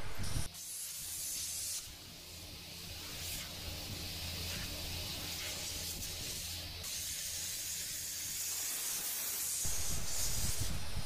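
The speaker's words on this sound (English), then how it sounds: "Now, I try to gouge out some of that center section from the other side of the beam." A plasma cutter gouges into an 8 inch steel beam with a loud, continuous, close rushing hiss that holds steady for several seconds after a brief start.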